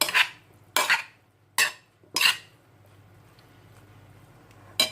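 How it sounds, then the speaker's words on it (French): Pasta tossed and mixed in a dish, producing four sharp scraping clinks in quick succession, a pause, then one more near the end, close and fairly clear. "Et vous mélangez un petit peu."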